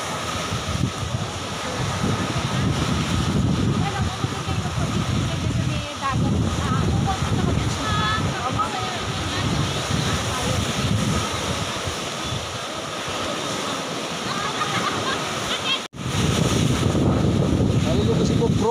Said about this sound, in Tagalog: Oh, maalon po sa puka